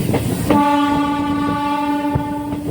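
A MEMU train at a railway station sounds a loud, sustained horn for about two seconds, with rumbling and clattering of the carriages underneath and no talk.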